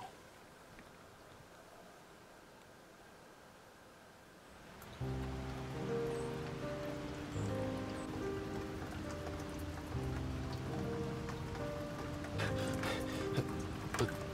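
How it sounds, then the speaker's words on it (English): Steady rain patters across a surface for the first five seconds; a layer of music then joins and carries on over the continuing downpour. "It's raining."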